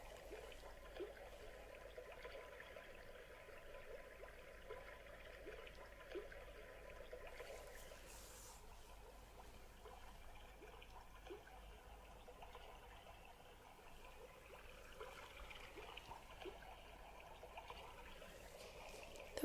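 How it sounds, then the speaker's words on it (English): Gentle water trickles and pours steadily for the whole stretch, soft and close, with a slight change in the flow partway through, in a quiet ASMR setting. "It's water."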